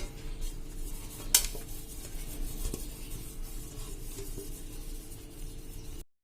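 A metal spoon scrapes and taps against a steel plate while spreading ghee over it, soft clinks and rubbing strokes with one sharper clink early on, close and quiet.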